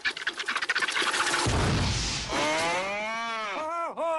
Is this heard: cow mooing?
yes